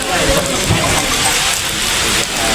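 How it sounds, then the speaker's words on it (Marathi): Steady, dense rain falls at Azad Maidan, Mumbai, throughout, a constant broadband wash with no pauses, close by and fairly loud. "मुंबईमध्ये पाऊस सुरू झालेला आहे"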